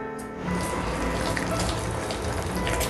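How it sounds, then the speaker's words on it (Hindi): Water poured into rava idli batter, a brief steady trickle that starts after a short pause and runs on as a soft gushing stream, close and unaccompanied by talk. "इसमें थोड़ा सा पानी ऐड कर देते हैं, बिल्कुल थोड़ा सा"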